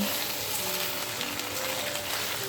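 Chicken gizzards and hearts fry with onions in a hot pan, giving a loud, steady, close sizzle that crackles without pause for the whole short stretch.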